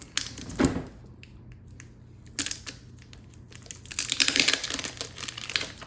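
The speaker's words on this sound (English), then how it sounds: "I'm going to take this, I'm going to untape it" Packing tape peeled away from the seams of a North Spore Boomr Bin mushroom grow container in a series of close crinkling, ripping pulls, with a short loud strip early on and a longer, busier run of tearing near the end.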